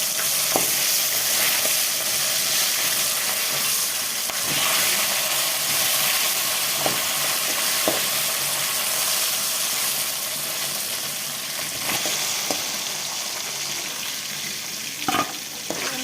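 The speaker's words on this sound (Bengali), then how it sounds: "মশলাগুলো ভাজা হয়ে গেছে" Ground coriander and cumin fry in a pan with a loud, dense sizzle, punctuated by sharp scrapes and taps of a spatula stirring, and no one talking.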